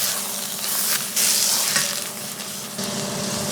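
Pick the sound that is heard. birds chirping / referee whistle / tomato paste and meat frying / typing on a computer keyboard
tomato paste and meat frying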